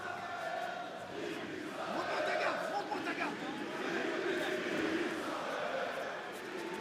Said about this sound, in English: The crowd getting behind the local fighter.